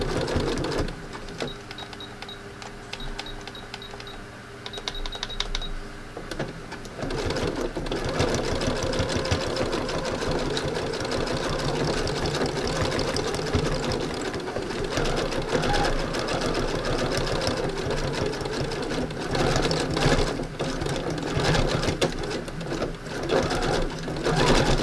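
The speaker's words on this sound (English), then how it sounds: "I'm going to sew this down with a zigzag." A sewing machine stitches a zigzag to tack down wool fabric in thread painting, running steadily and loudly from start to finish with a brief lighter rattle at first, then a dense continuous drone.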